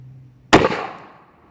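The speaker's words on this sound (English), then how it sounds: "This gun's actually a pleasure to shoot." A single sharp gunshot from a Colt 1908 Pocket .380 pistol cracks close by, loud and abrupt, with a short fading echo afterward.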